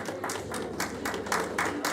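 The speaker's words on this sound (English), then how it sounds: "Yeah, round of applause." A small crowd at a ukulele orchestra rehearsal gives a short, uneven round of applause, with bursts of individual claps close by and quiet voices mixed in.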